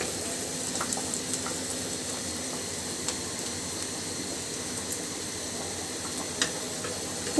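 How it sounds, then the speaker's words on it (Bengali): Onions fry in a pan with a steady, even sizzle and occasional small pops and crackles, heard up close with no voices. "পেঁয়াজটা খুব সুন্দর করে ভাজি করে নিব।"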